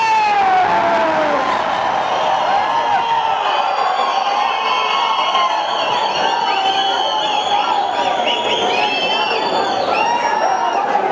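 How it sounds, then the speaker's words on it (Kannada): A crowd cheers, whoops and shouts continuously at a Kannada film celebration event during a gift presentation, a loud, dense roar of many voices that holds steady throughout. "ದಯವಿಟ್ಟು ಜೋರಾದ ಚಪ್ಪಾಳೆ ಬರಬೇಕು."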